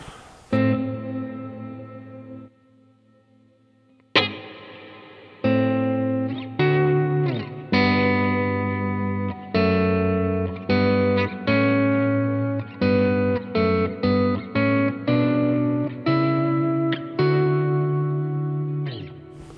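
Electric guitar through a Line 6 POD HD500X cave reverb, picking rhythmic notes and chords in a spacious, cavernous wash, with brief pauses and lingering reverb behind each attack.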